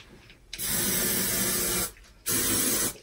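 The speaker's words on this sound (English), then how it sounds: "Hairspray." Two close bursts of hairspray hissing onto hair, a long spray of over a second followed by a shorter one after a brief pause.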